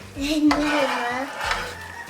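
Ingredients for a shrimp boil being stirred in a pot, with a spoon scraping and clinking against the metal sides in a few short strokes, close and moderately loud, with a faint sizzle underneath.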